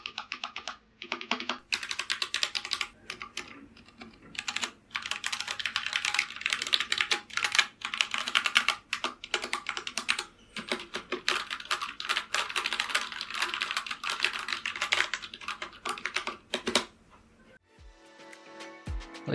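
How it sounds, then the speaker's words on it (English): Rapid, steady typing on a Glorious mechanical keyboard, dense clacking keystrokes close up with brief pauses, ending in a few isolated taps. "Here is the typing sound to give you an idea of what it's like."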